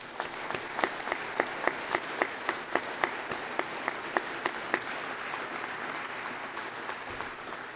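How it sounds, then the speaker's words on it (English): Audience applause at a college trades and apprenticeship awards ceremony, a steady clapping crowd with scattered louder individual claps standing out, continuing throughout and tapering slightly at the end. "I also would like to have a round of applause for the faculty of Conestoga College"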